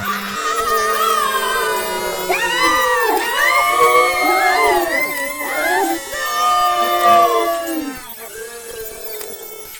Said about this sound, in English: Shouts of agony came from the outside